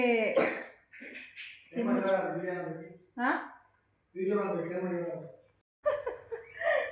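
A few short, harsh coughs up close, mixed with throat-clearing bursts between stretches of voiced sound.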